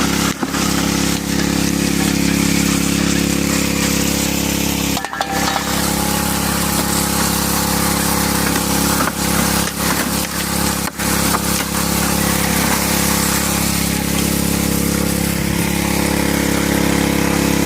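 A small engine drives the water pump on a highbanker gold-mining rig in Arizona, droning steadily and close for the whole stretch, with a few brief dips in level and no talk.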